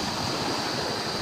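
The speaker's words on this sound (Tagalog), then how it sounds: "Okay naman yung alon sa palakas pa ngayon" Ocean surf rolling in on a coast ahead of Typhoon Uwan, a steady continuous wash of breaking waves with wind noise over the microphone, close and fairly loud with no voices.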